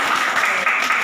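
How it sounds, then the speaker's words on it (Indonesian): Classroom applause for a student group, a dense burst of many hands clapping together, continuous and fairly loud for the whole moment. "kita tepuk tangan sekali lagi untuk kelompok 2"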